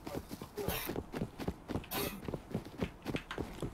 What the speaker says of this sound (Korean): 야 오른쪽 발소리 나